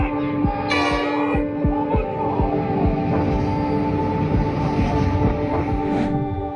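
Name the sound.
oncoming train in a dog rescue video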